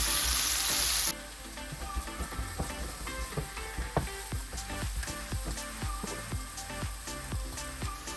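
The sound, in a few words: banana sautéing in ghee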